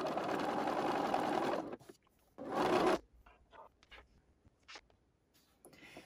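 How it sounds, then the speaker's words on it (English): A sewing machine stitches quilt pieces along a diagonal, whirring in a steady burst, pausing, then running again briefly before quiet handling sounds and rustles. "I'm going to sew along this diagonal here"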